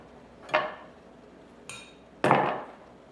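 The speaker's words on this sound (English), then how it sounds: "just dip your tablespoon inside the tomatoes, breaking the ribs" Tablespoon scraping and knocking inside a hollowed tomato while the ribs are broken out, giving three short clinking, scraping strokes that sound close and fairly quiet.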